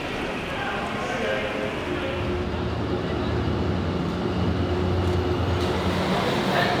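Ambience at a train station in Vietnam before an overnight departure, a steady low rumble and hum with faint clatter and no one speaking.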